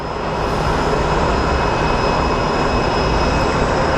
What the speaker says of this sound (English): we have a 757-200 coming in from St. Louis